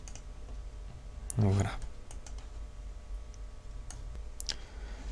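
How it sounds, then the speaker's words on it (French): A few quick mouse clicks on a computer while setting up a virtual machine in VirtualBox, one louder click burst standing out over faint background hum, with a brief spoken word. "Et on clique sur Créer."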